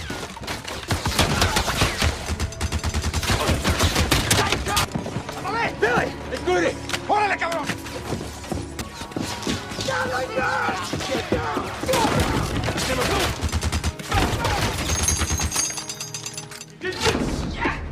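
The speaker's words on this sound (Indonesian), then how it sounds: "Senjata Gatling gun Bok memukul mundur pasukan Chisom." Gatling gun fire in a Western film battle, dense rapid bursts mixed with crashes and thuds, loud and sustained, with a voice narrating over the top.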